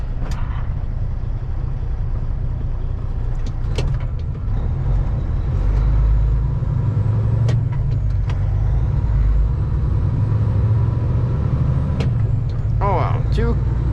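Two vehicles pass a CAT 594H on the road, heard as a loud, continuous engine rumble with low droning, brief hiss bursts and clatter, while someone talks over it.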